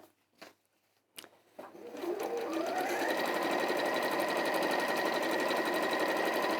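A sewing machine top stitches a flipped fabric piece, starting after a few soft clicks and handling noises, then running in a loud, steady, continuous whir to the end.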